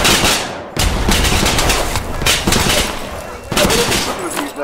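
Rapid carbine gunfire in a Vietnam-era VR shooter, dense repeated shots in bursts with a short break, loud and close, with a voice talking underneath.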